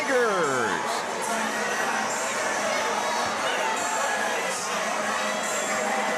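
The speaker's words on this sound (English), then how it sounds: "Got to get the crowd hyped up, the student section getting hyped." A high school basketball student section cheering and shouting in a gym, a loud continuous crowd roar with scattered yells and children's voices, and talk mixed into the din.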